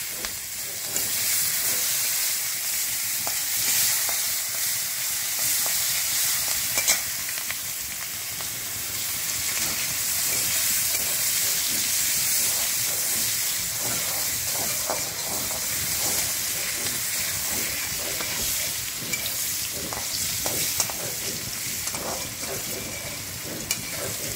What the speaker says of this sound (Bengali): পেঁয়াজ সম্বার দিয়ে দিই।